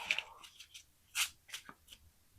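Quiet, close crisp riffling bursts of oracle cards being shuffled, several short flurries spread unevenly across a near-silent background.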